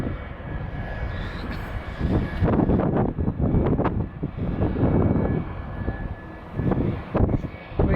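An Air France Airbus A350 airliner from Paris passes at Atlanta airport, a loud, rumbling jet roar with gusty wind buffeting the microphone and uneven surges in volume.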